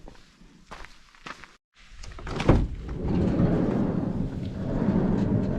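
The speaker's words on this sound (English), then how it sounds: "Let's go open the van." A van door is unlocked and opened outdoors on a chilly night: a few faint clicks and a brief pause, then a loud sliding thud and a rumbling roll that settles into a sustained low whoosh.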